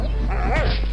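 A dog in the video game Nosferatu: The Wrath of Malachi gives one sharp, close bark with a whining tail, over a steady low hum.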